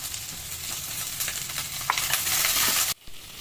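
Tomatoes sizzle loudly in a hot pan for sambar while a spoon stirs and scrapes through them, then the frying noise cuts off abruptly near the end.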